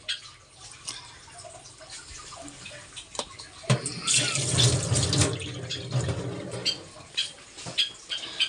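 Tap water runs over hilsa fish in a kitchen sink, splashing and trickling steadily at moderate volume, growing fuller and louder midway before settling into uneven gurgles.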